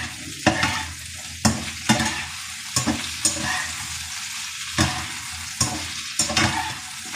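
Chop suey vegetables sautéed in a pan, a hiss of frying broken by regular scraping stirs roughly every second, close and fairly loud, with no voices.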